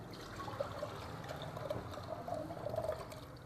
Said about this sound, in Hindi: ये पानी भी मैं इसी में डाल रही हूँ